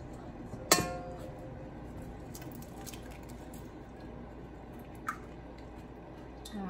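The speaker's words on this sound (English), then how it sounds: "Okay, crack some eggs." Eggs tapped against a hard rim while separating yolks and whites for choux pastry cream and meringue: one sharp, ringing clink near the start and a fainter tap about four seconds later, over a steady low room hum.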